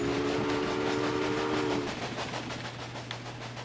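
A train in the Railway Empire game rolls along a rail line carrying corn, with a steady low rumble, a sustained horn-like tone that fades after a couple of seconds, and faint clicking wheels continuing underneath.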